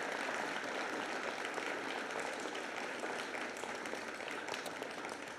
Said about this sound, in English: 8th grade, please share a round of applause for these incredible teachers.